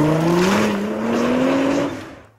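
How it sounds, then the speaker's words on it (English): Cobb Tuning's 600-wheel-horsepower Nissan GT-R development mule accelerates hard on a track, its loud, close engine note climbing steadily in pitch for about two seconds before fading out. "this is the Cobb Tuning GTR development mule, 600 wheel horsepower that makes you do this"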